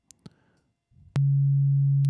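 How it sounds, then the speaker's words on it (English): An Access Virus TI synthesizer oscillator set to a sine wave sounds as a loud, steady, pure low tone that starts abruptly and holds without change, after a few faint, brief clicks and a soft rumble. "So oscillator 2 is set to a sine wave right now."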